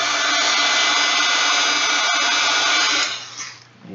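A dryer blows on watercolor and mixed-media artwork with a loud, steady close-up whoosh and motor hum for about three seconds, then it is pulled away and the sound fades.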